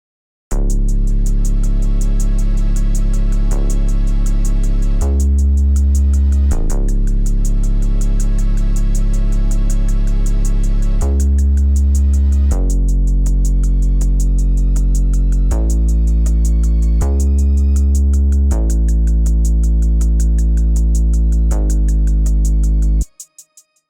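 Beat section, with heavy sustained sub bass notes changing pitch in blocks, a steady rhythm, and layered strings, playing alone for about twenty-three seconds before stopping.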